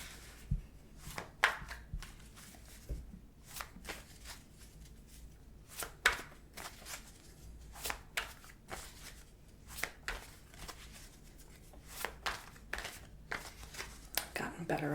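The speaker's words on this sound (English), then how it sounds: "I used to suck at shuffling cards, like any cards, playing cards in general" Tarot cards are shuffled softly and close up, a run of quick crisp riffles and taps in an irregular rhythm, with a quiet voice talking underneath.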